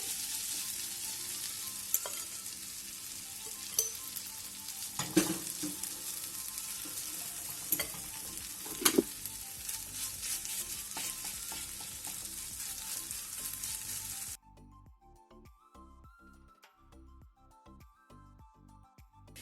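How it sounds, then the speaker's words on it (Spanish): Grated potato frying in olive oil in a pan, a steady crackling sizzle with a few stirring clicks and scrapes, then the sound drops away abruptly near the end. "Y cuando esté un poquito caliente, vamos a poner nuestra patata rallada."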